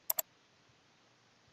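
Two quick computer mouse clicks sound in rapid succession, crisp and close, followed by near silence.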